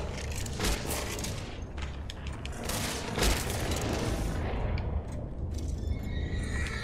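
Gunfire in the Red Dead Online video game, a fairly faint flurry of overlapping shots and booms amid steady background game noise.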